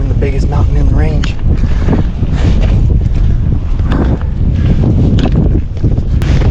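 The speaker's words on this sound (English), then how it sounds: "probably gusts to 30." Strong mountain wind gusting to about 30 roars and buffets the microphone in heavy gusts on a peak in Olympic National Park, loud and continuous, with a voice briefly audible beneath it.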